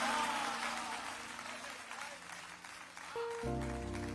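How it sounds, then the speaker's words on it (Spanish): Church congregation applauding during a Sunday celebration service, a broad wash of clapping across the clip with voices mixed in, then a sustained musical tone entering near the end. "Denle un aplauso al Señor, por favor."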